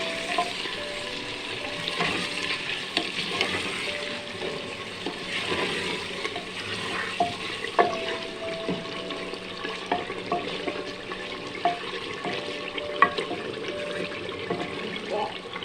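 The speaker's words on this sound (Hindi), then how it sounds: "ये भी हम इसमें थोड़ा सा फ्राई करेंगे।" Ginger garlic paste fries in a pot for chicken nihari with a steady, moderate sizzle and bubbling, broken by frequent light clinks and scrapes of a spoon against the pot.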